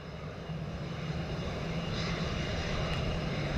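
An American Airlines airliner at Montego Bay airport roars with a steady, loud engine drone and broad rushing noise, continuous throughout with no talk.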